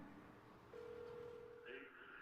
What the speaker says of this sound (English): I'll call his mobile number right now.